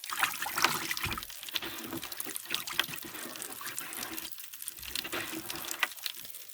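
Items poured into water give off a steady crackling fizz, dense bright pops and trickling sounds running continuously at close range with no voices.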